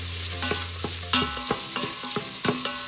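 Sizzling onions stirred with a utensil in an Instant Pot on high saute for jambalaya, close and clear, a rhythmic series of scraping knocks against the pot over a bed of frying crackle.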